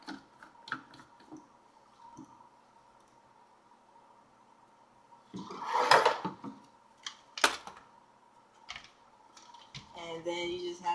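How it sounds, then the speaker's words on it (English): The plastic top is screwed onto a Ninja blender cup in a quiet room, giving soft ticking clicks and scrapes with a couple of louder clattering knocks. "And then I'll just put the top on."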